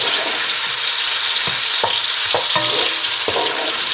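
Smoked sausage browns in a pan with a loud, dense, continuous sizzle, broken by a few dull knocks and scrapes as the pieces are moved around, close up and with no voices.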